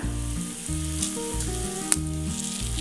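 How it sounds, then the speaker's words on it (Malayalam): Curry leaves sizzling in hot oil for a papaya buttermilk curry, heard as a constant close crackle with a brief sharp pop near the end, partly masked by a background music track. "സ്റ്റവ് ഓഫ് ചെയ്തതിന് ശേഷം ഇതിനകത്തേക്ക് കുറച്ച് കറിവേപ്പില,"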